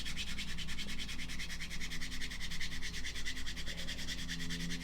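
Sandpaper works along the seam at the trailing edge of a plastic model aircraft wing in quick, steady, evenly repeated strokes, close and continuous with no talking.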